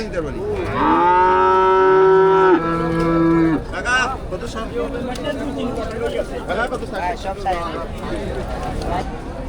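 A cow lets out a long, loud moo close by at a cattle market in Cumilla, then people talk over faint background noise.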